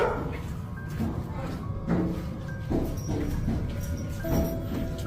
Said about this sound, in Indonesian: anjing peliharaannya mulai menggonggong dengan gelisah